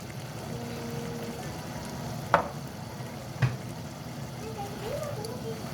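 Tamban fish seasoned with salt and black pepper is stirred in a frying pan, giving a steady low sizzle with two brief sharp scrapes of the utensil against the pan.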